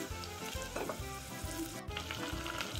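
Cumin seeds sizzle and crackle in hot oil in a pressure cooker, with garlic just added, for a matar pulao; a steady, close frying hiss with rhythmic stirring scrapes, no talking.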